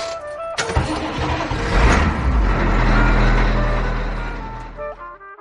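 A bus engine cranks and starts, then idles and revs in a steady low rumble close by for several seconds before dying away, with no talking.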